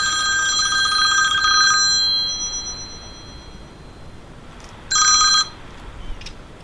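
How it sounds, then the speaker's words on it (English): A telephone rings for an incoming call outdoors during a trail camera pickup. A bright, trilling electronic ring sounds for about two seconds, stops, then gives one shorter burst later over steady outdoor background noise. "Just got a phone call that almost interrupted this"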